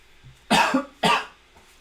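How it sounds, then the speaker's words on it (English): Two quick, forceful coughs close to the microphone, about half a second apart, loud and isolated against a quiet background. "Didn't press the mute button before I coughed"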